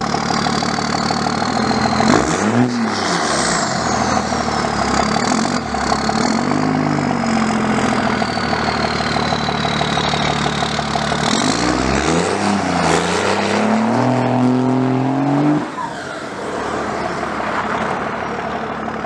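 A Dodge 24-valve Cummins diesel truck engine, run with stacked programmers, idles steadily with a deep clatter and rises in several throaty revs, loud and near, in a snowy outdoor setting.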